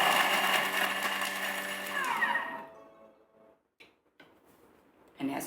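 A Thermomix blade whirs loudly while chopping mango chutney, a steady dense motor roar that winds down after about two seconds and fades into near silence, with small clunks and a brief restart at the end.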